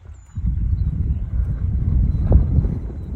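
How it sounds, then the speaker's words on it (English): Wind blowing across an open hilltop farm, a steady low rumble buffeting the microphone with slight gusts, constant throughout with no talk. "Sorry for the wind, it's a little windy today."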